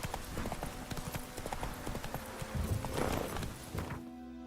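Rapid clip-clop of horse hooves at a steady trot in the video game The Witcher 3: Wild Hunt, close and continuous, fading out abruptly near the end.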